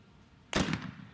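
A single sharp shotgun blast rings out at an outdoor women's trap shooting final, a sudden loud crack followed by a short, fading echo.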